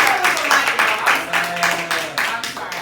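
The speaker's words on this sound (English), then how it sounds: "give her a round of applause" Audience applauding a speaker after her talk on online video, a short burst of pulsing, uneven clapping that swells and dips over about three seconds.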